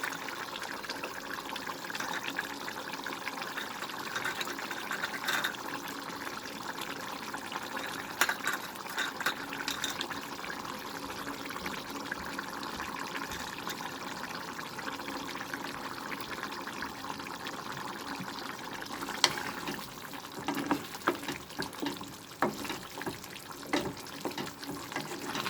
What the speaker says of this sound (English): Now friends, we can see the curry is boiling.